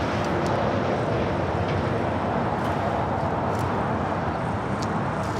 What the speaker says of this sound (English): We also have a Delta A350 heading to the south side as well